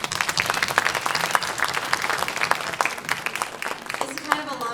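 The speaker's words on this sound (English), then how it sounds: "Let's give them a round of applause." Audience applause at a high school fine and performing arts holiday concert, steady dense clapping from a crowd filling the hall for the full stretch, with scattered voices underneath.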